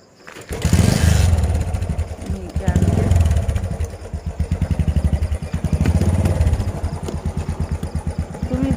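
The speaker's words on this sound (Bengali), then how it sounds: "বাইকটা আগে ঘুরি।" A motorcycle engine running nearby, a steady low chugging rumble that swells and eases in waves as it revs and idles, loud throughout.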